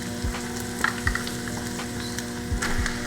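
Squash and onions sizzle and fry steadily in a pan for a salmon rice bowl meal, with a constant close crackle and a few soft stirring clunks, no talking.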